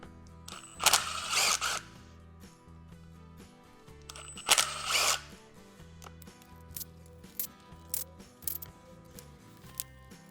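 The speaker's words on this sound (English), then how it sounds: "now I'm just going to undo the ring of bolts and take the vacuum pump off" Bolts around a vacuum pump on an OM606 diesel engine are undone with a ratchet, two loud bursts of rapid clicking followed by lighter metallic ticks and taps, close up and with no talk.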